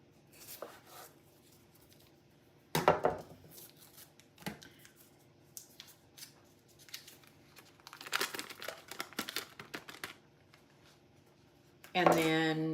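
Soft butter, half a stick, cut with a big kitchen knife: a few crisp, crinkly slicing and tapping sounds in short bursts, close by, with quiet gaps between them and a louder rustle at the end.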